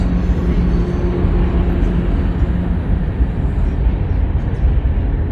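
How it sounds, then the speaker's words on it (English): A loud, continuous low rumble and roar of a train passing nearby, steady throughout with no pauses. "Man, this train is loud"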